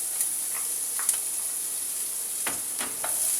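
Chopped white onion and garlic fry in a pan with a steady, fairly close sizzle, broken by a few brief scraping stirs.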